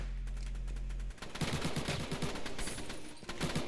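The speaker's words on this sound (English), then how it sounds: "I hate this PPSH already" Rapid full-auto bursts from a PPSh submachine gun in the Jailbird Remastered video game, loud and dense after a short low hum, with a brief pause near the end.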